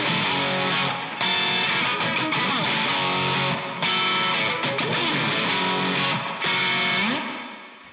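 Distorted electric guitar plays a percussive, chunking verse riff, loud and close, with tight choppy strums and short muted breaks, no voices.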